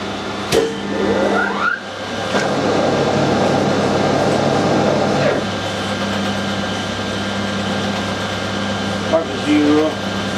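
A metal lathe runs forward while cutting a 4 TPI thread, giving a steady mechanical hum and whir with a rougher cutting roar in the middle, a few clicks and squeaks, and speech over it.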